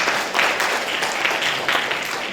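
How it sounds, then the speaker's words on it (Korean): Audience applause at a university innovation forum session, a steady dense wash of clapping at even loudness with no voices, filling the whole stretch. "다시 한번 박수 부탁드립니다."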